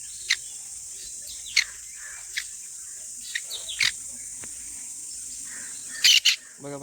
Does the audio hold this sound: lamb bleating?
no